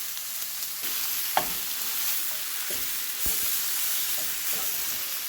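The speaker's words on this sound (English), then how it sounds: "I will saute until it's done" Ground beef sautés in a pan with a constant broad hiss of frying, punctuated by a few scraping stirs and knocks of a spoon, close by and without talk.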